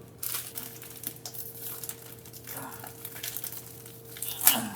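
Plastic instant noodle packaging crinkling and tearing open at close range, with irregular rustles and crackles, then a sharper rip near the end.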